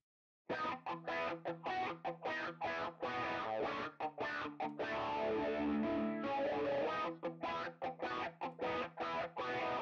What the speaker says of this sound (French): je vais rajouter un petit phaser après, juste après le treble booster